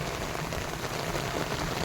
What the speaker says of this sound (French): Ça fait même pas 3 minutes qu'il pleut.